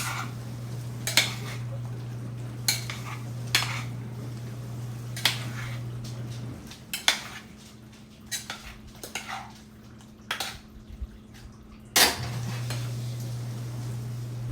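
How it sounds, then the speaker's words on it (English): A spoon stirs a simmering pot of faux baked beans made with jicama, giving sharp metallic clinks and scrapes against the pot at an irregular pace over a steady low hum that drops out midway. "So now let me stir that up and let that simmer a little bit"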